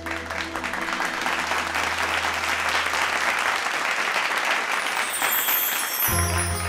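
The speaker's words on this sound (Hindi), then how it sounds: "तालियों के साथ स्वागत कीजिए" Audience applause welcoming guests onto a stage, a thick continuous roar of clapping under a sustained low musical tone, which then gives way to a brighter musical sting near the end.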